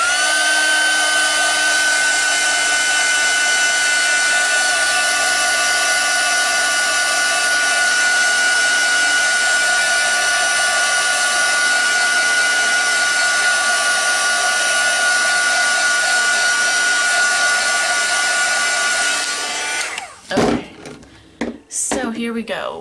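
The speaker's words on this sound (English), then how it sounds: "And then let's heat set that." A heat tool runs steadily and loudly for about twenty seconds, setting shimmer on a mixed media card, with a constant whine and hiss, then cuts off, leaving brief handling clatter.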